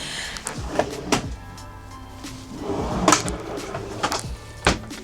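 A pantry cupboard in a motorhome opened and shut, several sharp wooden knocks and clicks of the door and catch, close and fairly loud, with quieter handling rattles between them.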